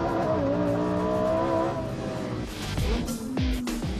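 A Lamborghini Huracán Performante with a mid-mounted V10 drives a fast, winding race circuit, its loud engine note sweeping in pitch as it accelerates and shifts, with brief tire noise toward the end.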